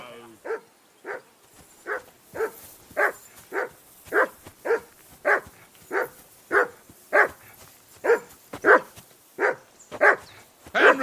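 A dog barks in the medieval game Kingdom Come: Deliverance 2, about sixteen evenly spaced, loud, close barks in a steady rhythm, with faint talk briefly at the start.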